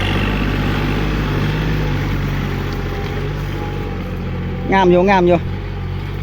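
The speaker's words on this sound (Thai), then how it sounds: "เดี๋ยวให้รถไถผ่านด้วยกัน" A farm tractor drives through a rice field planted with short-stemmed RD6 glutinous rice, giving a steady, loud engine rumble throughout. A voice speaks briefly near the end.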